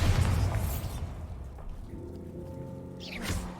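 A Bombarda spell detonation in Hogwarts Legacy, a dull booming blast with rumbling low debris tail, followed by a fainter second burst near the end.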